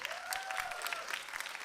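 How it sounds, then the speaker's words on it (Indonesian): Studio audience at a stand-up comedy show applauding a comedian's introduction: dense, steady clapping from a crowd, close and lively, with a faint voice tone gliding over it. "coba tepuk tangan?"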